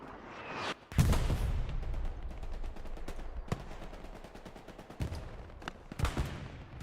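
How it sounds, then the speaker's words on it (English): Heavy artillery and gunfire in the Hell Let Loose shooter game: a big blast rumbles early on, then sharp shots crack again and again, scattered and loud, over a steady wash of battle noise. "Some artillery coming down hard right there."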